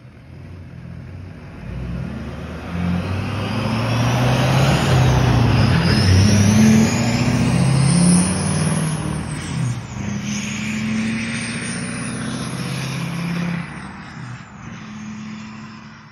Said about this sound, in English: Truck rips super fast, as it should be.